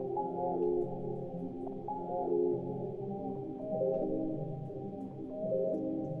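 Two layered melodic lines from a sampled loop, a plucked tonal figure over a sustained background pad, playing softly and continuously in a beat-making session with no voices.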